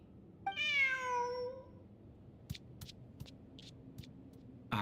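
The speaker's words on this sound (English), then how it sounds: "Who's a good kitty?" A cat in a video game lets out a single drawn-out meow, clear and close, followed by a few soft clicks and light game sounds with no talking.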